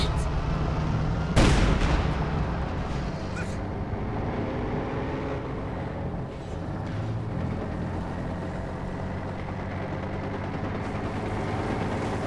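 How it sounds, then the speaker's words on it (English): In the Company of Heroes 2 video game, a Panzer tank fires one sharp, heavy cannon blast early on. Battle rumble and vehicle engines continue steadily around it. "Panzer firing on us."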